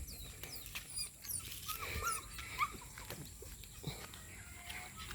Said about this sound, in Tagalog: Mahilig to mga aso manguha ng mga plastic ng mga basura oh.